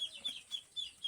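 Chickens cluck softly in short repeated bursts, about five evenly spaced calls over a second, near and moderately loud with no talk.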